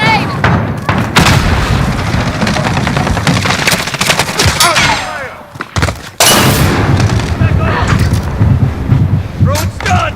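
A grenade blast and rapid automatic gunfire in a first-person shooter team deathmatch, loud, dense bursts and booms running almost continuously with a brief lull, game voices mixed in.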